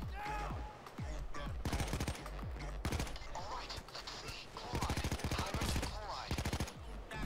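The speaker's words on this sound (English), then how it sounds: "I'm shooting at you" Rapid bursts of automatic gunfire from the Payday 2 Halloween heist Lab Rats, loud and repeated in quick volleys throughout, with mechanical clatter between bursts.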